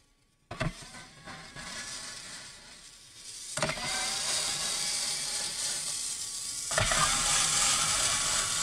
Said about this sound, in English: First, you need to go ahead and remove all the screw and the back cover.